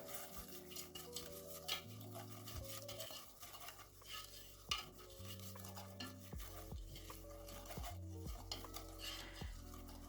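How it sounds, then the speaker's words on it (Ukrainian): A whisk scrapes and taps steadily around a metal pot, beating egg yolks with sugar, with clinking strokes over a faint hum of music in the background. "І вінчиком ось так оце все ретельно перетираю."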